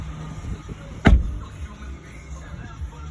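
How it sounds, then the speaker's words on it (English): The driver's side power window of a 2022 Mazda CX-3 AWD lowers with a steady low motor whir inside the cabin, marked by a single sharp thump early on, over a constant background hum with no talking. "Roll down the automatic driver's side window."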